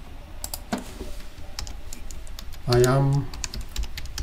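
Quick bursts of key taps on a computer keyboard as a text string is entered, close and crisp, with a short spoken phrase in the middle.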